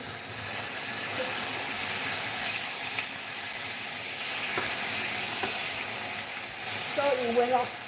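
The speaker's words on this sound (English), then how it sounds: "So what you do is you just add a little bit to let the steam" Mushroom and egg mixture sizzles and steams steadily in a hot pan, a continuous close hiss with a few brief crackles and a short burst of louder activity near the end.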